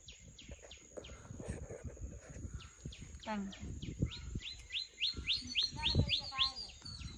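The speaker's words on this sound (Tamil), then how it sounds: "விடிய டைம்ல எப்படி குருவிகள் கத்துதாண்டு" Sparrows chirping at dawn near a watermelon garden, many sharp, rapid tweets that come in quick bursts and grow busier toward the end, with someone talking over them throughout.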